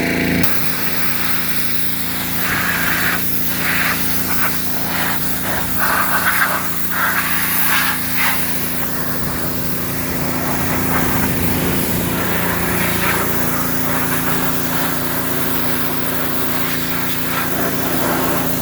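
A pressure washer sprays a Gravely ZTX-52 zero-turn mower with a continuous hissing jet over a steady engine drone, the spray surging and fading as it moves across surfaces.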